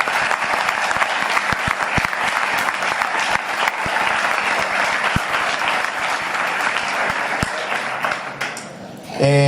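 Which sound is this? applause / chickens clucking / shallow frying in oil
applause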